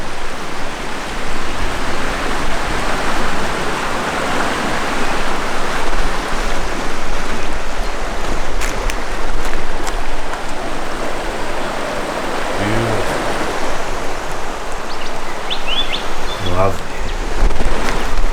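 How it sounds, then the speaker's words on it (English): The Middle River flows past a campsite, a steady, loud broadband rush of water that continues unbroken throughout, with no talking. "And the Middle River."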